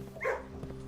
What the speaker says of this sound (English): It's a nice little dog. I can pet the dog.